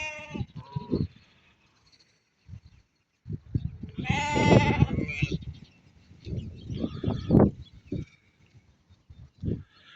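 Sheep and lambs bleat at a sheep market, with several loud, wavering calls rising close by between short pauses and softer bursts of animal noise, while someone speaks intermittently.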